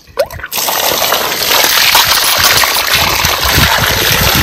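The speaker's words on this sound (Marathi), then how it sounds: "आता आपण परत दुसऱ्या पाण्याने एकदा धुवून घ्यायच्यात" Raw fish being rinsed in a bowl of fresh water for a homemade fish fry, a steady close splashing and gushing of water that begins after a brief knock and runs continuously.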